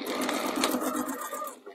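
A sewing machine runs briefly, stitching fabric side seams on a cushion, with a fast, close, loud mechanical whir that slows and stops within two seconds.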